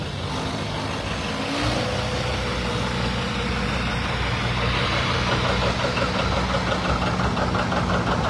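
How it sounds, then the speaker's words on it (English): A 2520 New Generation tractor rolls by in a tractor parade at West Bend, Wisconsin. Its engine chugs loudly and steadily close by, growing a little louder after the first couple of seconds, with no voices. "Another 2520 new generation tractor."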